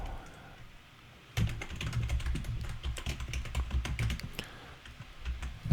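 Close, quick keystrokes as an email address is typed on a computer keyboard while sharing a Canva design: quiet at first, then a dense, irregular run of clicks and taps that continues to the end.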